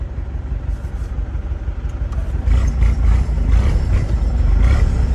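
A Chevrolet D20 pickup on 33x12.5 tires, with straight exhaust and an opened-up pump, drones loudly and low, then rises into a harder, heavier rev partway through.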